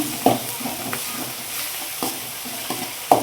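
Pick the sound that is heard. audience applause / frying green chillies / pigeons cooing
frying green chillies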